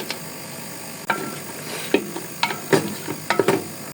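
A rohu fish head is being browned in a pan with turmeric, spice powder and salt, with steady low sizzling and several sharp scraping stirs of a spatula at irregular intervals, close and moderately loud.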